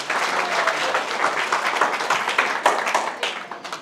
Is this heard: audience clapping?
yes